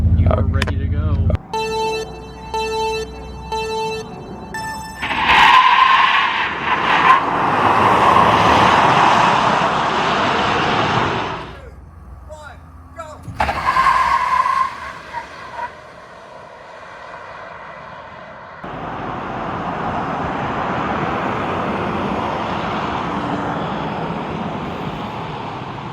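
A 2024 Tesla Cybertruck launches in launch mode with a rising electric whine and road roar that surges, fades, then swells again, over chimes and excited talk inside the cabin.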